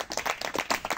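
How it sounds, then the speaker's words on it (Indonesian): A gathered audience claps together after a Wayang Beber talk, a brief, soft burst of quick overlapping claps heard from a little distance without voices. "Tepuk tangan semuanya."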